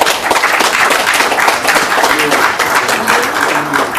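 Dense audience applause fills a book launch for a work on the 2018 RDC elections, continuous and loud throughout, with faint voices mixed in.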